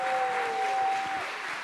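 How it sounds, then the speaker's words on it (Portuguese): Steady applause from a church audience welcoming a missionary during a sermon, a continuous dense patter of clapping throughout, fairly loud and without talk over it. "Eu quero que vocês acolhem com uma salva de palmas Carolina"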